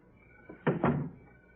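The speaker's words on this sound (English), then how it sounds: "Close the door." A door is shut in an old-time radio drama, giving two quick, close wooden thuds in a row against a quiet background.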